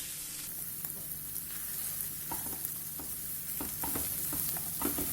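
Sweet corn kachori filling with grated potato being mixed in a pan, a steady soft sizzle under scattered scraping clicks of a spoon against the pan, no voices.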